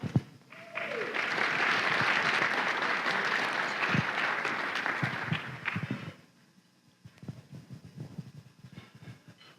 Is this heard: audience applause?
yes